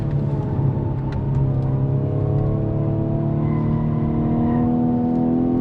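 A Hyundai Veloster 1.6 turbo accelerates hard in manual mode, heard from inside the cabin. The engine note climbs in a loud, continuous rising drone with a steady roar and no talk over it.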